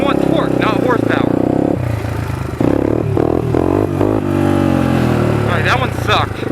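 A motorcycle engine revving hard toward its rev limiter for a wheelie, a loud rising engine note that climbs, drops and climbs again, with someone talking over it.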